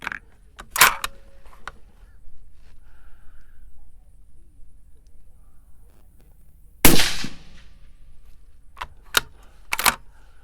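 Sharp, loud report of a .223 precision rifle firing a 77 grain TMK handload, one dominant blast near the middle followed by a few shorter cracks and clicks toward the end, with faint mechanical handling noises between.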